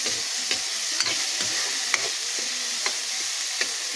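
Onion and tomato fry with bitter melon and pork lechon in a pan, a steady close hiss of sizzling oil broken by regular scraping taps of a utensil stirring roughly every half second, with no voices.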